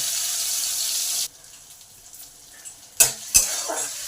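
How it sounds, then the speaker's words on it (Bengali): Chana dal and urad dal frying in hot oil in a kadai: a loud steady sizzle that drops away, followed by a couple of sharp utensil clanks and stirring scrapes, close and without talk. "এই ডালগুলো আগে ভালো করে একটু ভেজে নেবো"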